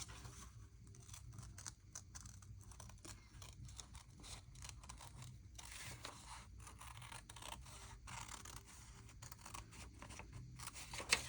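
Faint snips and scratchy paper sounds of scissors cutting through a paper tag for a tag wrap-around pocket craft, quiet and close, with a slightly louder cut at the end.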